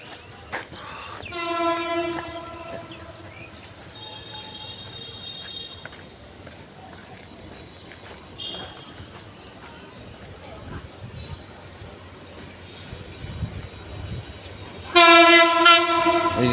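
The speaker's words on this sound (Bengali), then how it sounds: "ওই যে সামনে ট্রেন আসতেছে।" A train approaches along a railway line outdoors on a sunny day, its horn blowing loudly near the start and again closer near the end, with a low rumble in between and a voice talking.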